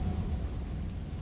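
The Confringo fire spell explodes in Hogwarts Legacy, a short, dense, loud low rumbling burst that fills the whole moment without any clear separate attack.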